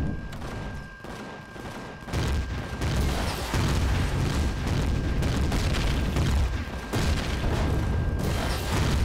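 Rocket fire and explosions in the space survival game Empyrion Galactic Survival: a continuous heavy roaring rumble packed with overlapping booms and blasts, loud and sustained throughout without talk.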